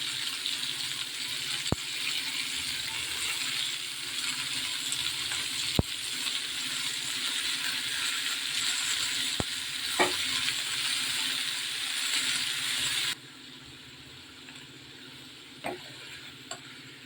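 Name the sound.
coriander added to a pan of tomatoes, sizzling and stirred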